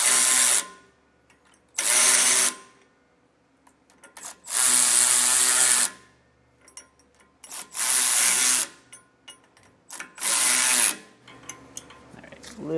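A power tool snugs up the U-bolt nuts on a Roadmaster Exact Center steering stabilizer in repeated short bursts of whirring, with quiet gaps between them and no talking.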